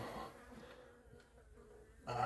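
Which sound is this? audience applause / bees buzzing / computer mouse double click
bees buzzing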